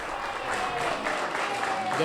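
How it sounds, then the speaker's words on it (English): Supporters cheer at Anthony Brown's election-night watch party during the 2022 Maryland primary, a steady wash of crowd noise and voices across the whole stretch, with chatter mixed in and no clear break. "You can hear them cheering in the background right now."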